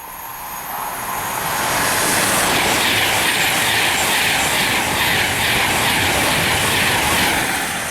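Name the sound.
Virgin train passing through Cheddington station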